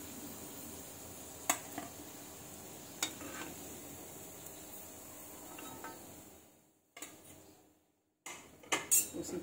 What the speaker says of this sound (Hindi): ये मंचूरियन बाल्स फ्राई हो चुकी हैं और इसको फ्राई करने में हमें 4 से 5 मिनट लगे हैं। चलिए इसको निकाल लेते हैं।